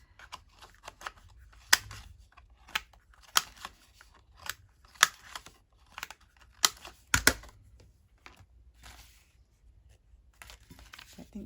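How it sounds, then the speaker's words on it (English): The corners of a paper journal card are rounded off: a series of crisp, close snips and clicks at an uneven pace, separated by quiet gaps. "so we'll just round the corners of that one."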